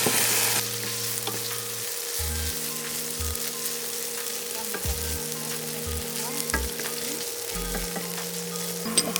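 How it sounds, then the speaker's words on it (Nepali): Fried chicken pieces going into a pan of onions for Thai basil chicken, setting off a steady, loud sizzle and hiss of frying that runs throughout, with low background hum and occasional clinks. "अब हाल्दैछौँ अघि हामीले फ्राई गरेको चिकन यसमा"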